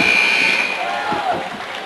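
A game-ending buzzer sounds in a high school girls basketball game in a gym, a loud sustained electronic tone that fades as crowd noise and a commentator's voice carry on.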